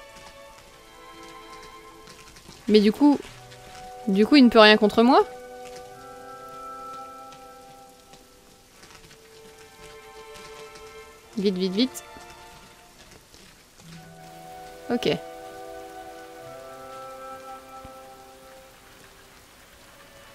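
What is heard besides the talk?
rain falling in the video game Rain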